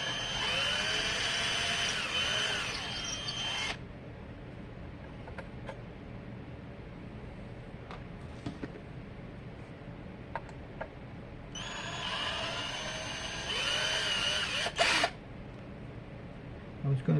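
A handheld power screwdriver backs screws out of the pickguard on a cherry burst Strat-style electric guitar, giving two separate whirring bursts of a few seconds each with quiet handling clicks between them.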